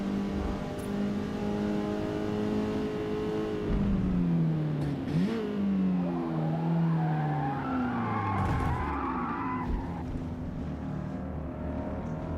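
Race cars in the Forza Motorsport video game break away and skid, their engines revving and whining with sweeping pitch changes over a steady roar, with no talk.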